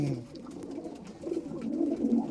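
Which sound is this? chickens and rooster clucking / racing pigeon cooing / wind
racing pigeon cooing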